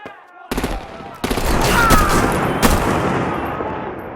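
Gunfire rattles in Batman: The Enemy Within as loud bursts break out and then settle into a dense, sustained roar of shots and action noise.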